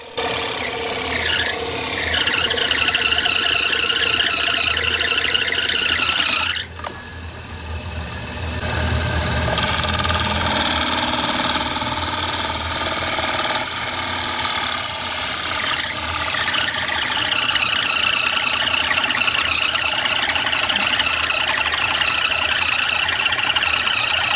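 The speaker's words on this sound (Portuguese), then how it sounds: "Com o bloco de madeira já preso ao torno, o artesão inicia o processo de formar as paredes do vaso" A motor-driven wood lathe spins a glued wooden block as a craftsman cuts the walls of a vase, giving a loud steady whine with scraping, rasping tool contact, a brief dip midway, then continuing strongly, no talking.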